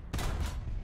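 A tank fires a high-explosive shell in War Thunder, a single sudden loud boom that rolls off into a short rumbling tail, heard alone.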